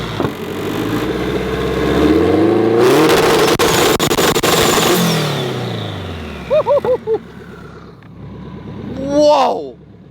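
A Spoon Sports Honda S2000 revs hard and loud, climbing through sharp upshifts with crackling bursts, then a few quick throttle blips and a final surging rev, all close and dominant.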